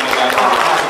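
Audience applause at an award ceremony in a hall, a continuous loud wash of many clapping hands filling the whole short moment.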